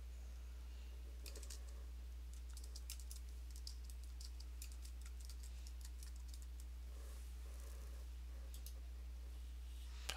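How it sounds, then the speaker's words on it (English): Faint, quick clicking of fingers typing on a computer keyboard, in irregular bursts over a steady low electrical hum, with no talking. "so for instance, I'm typing"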